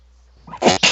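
A single short, sharp sneeze, close and fairly loud, with a quick intake before the burst.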